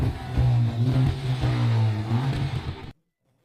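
A Volkswagen Polo GTI engine with a non-standard exhaust idles and revs with a deep, throaty exhaust rumble, steady then cutting off abruptly.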